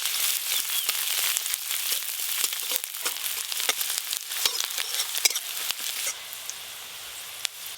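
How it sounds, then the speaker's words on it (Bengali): Chopped garlic and onion fry in mustard oil tempered with black cumin seeds, making a close, steady crackling sizzle full of sharp pops that thins out over the last couple of seconds. "আর রসুন কুচি বেশ ভালো করে ভাজা ভাজা হয়ে গেছে"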